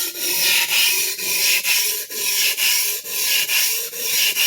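A vintage Clyde Cutlery chef knife being sharpened at a fairly acute angle: steady, rhythmic rasping strokes of the blade across a stone, about two per second, close and loud, with no voices.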